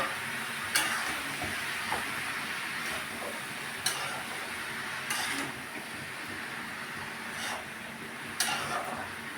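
Food sizzling in a frying pan while being lightly stirred, a steady hiss broken by periodic sharp scraping clicks from the utensil every second or two, with no talking.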